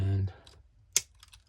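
A blade trims spurs off a 3D-printed part with one sharp, close snip-like click, followed by faint scraping. A voice speaks briefly just before it.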